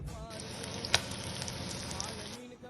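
Koduva fish shallow frying in a pan gives a close, steady hiss and crackle that starts abruptly, holds for about two seconds with one sharp pop, then cuts off.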